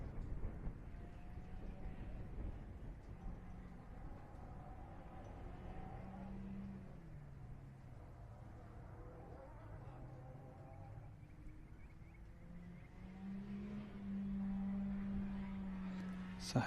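Race cars passing at the Griffith track during The Gap 440, engine drones rising and falling in pitch as they go by at a distance, faint and steady throughout, with the last passes growing louder.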